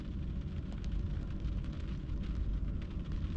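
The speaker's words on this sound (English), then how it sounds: "Still pouring rain outside." Steady rain pours onto the window of a Tesla Model 3 during a snowy winter night of car camping, heard from inside as a faint, continuous low patter and hiss with no voices.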